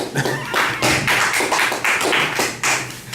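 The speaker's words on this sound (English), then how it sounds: "give him the clap" Audience clapping for a debate speaker: a steady run of about a dozen sharp, fairly loud claps in an irregular rhythm, few hands, close and alone without talk.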